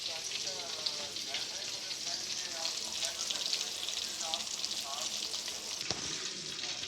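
Buffalo wings frying in oil over a low flame for a crispy golden finish, a steady close crackling sizzle that runs the whole time with a dense, rain-like patter.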